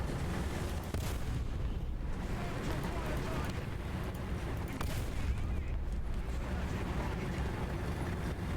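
A Stork missile fires in the Nintendo 64 racing game Extreme-G 2, a loud booming rumble that holds steady for several seconds inside dense, continuous engine noise.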